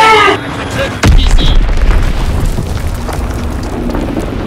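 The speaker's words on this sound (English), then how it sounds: "Enemy bomb incoming. Get to cover." A bomb detonates in a World War II shooter game, a sudden loud, deep blast followed by a long rumbling roar, with game voices and other battle noise around it.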